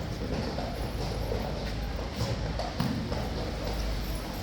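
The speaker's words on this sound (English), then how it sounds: "Let's see which horses are out first today." Horses' hooves clip-clop steadily at Horse Guards over a continuous outdoor rumble, with faint voices in the background.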